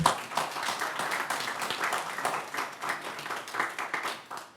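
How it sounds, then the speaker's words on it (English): A room full of people at a council meeting claps steadily, a moderate, even round of applause with no voices over it. "Apparently they're clapping for you."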